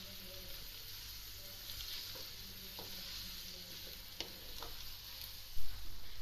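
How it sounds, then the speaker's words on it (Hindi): Three medium-small onions frying in oil in a karahi toward golden brown, a steady close sizzle with occasional light stirring scrapes and clicks, no voices. "अब इसको गोल्डन ब्राउन करेंगे"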